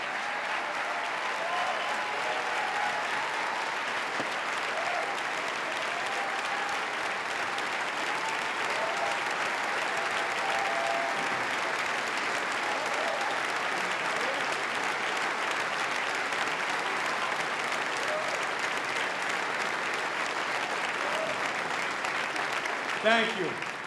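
Sustained audience applause at the 2018 New York State of the State address, a large hall crowd clapping steadily and evenly for over twenty seconds at constant loudness, without pause.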